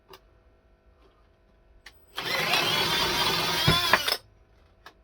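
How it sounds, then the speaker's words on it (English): A power drill fitted with a holesaw whirs loudly for about two seconds, cutting steadily with a rough grinding edge, then stops, leaving near silence before and after. "Let's drill some holes."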